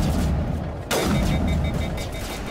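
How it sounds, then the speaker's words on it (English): Grenade blasts in the video game Mass Effect Legendary Edition: one sharp explosion lands partway through and decays into a rumbling tail over ongoing low combat noise. "is it me or are these grenades just not effective?"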